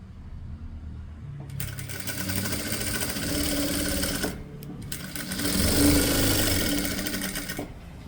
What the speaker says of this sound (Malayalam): കയ്യിൻ്റെ ഈ ഭാഗം ഒന്ന് സ്റ്റിച്ച് ചെയ്ത് കൊടുക്കുക